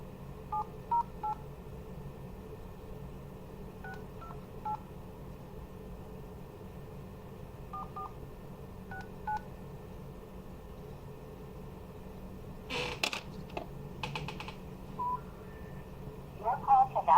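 Short touch-tone dialing beeps from a telephone placing a call, coming in scattered small bursts over a steady background hiss, with a louder clatter near the end.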